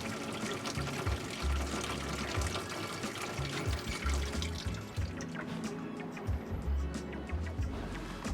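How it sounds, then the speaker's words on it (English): Hot water runs steadily from an RV tap, a continuous close hiss and splash with low rumbling bumps from the plumbing throughout. "We'll run some more water, see?"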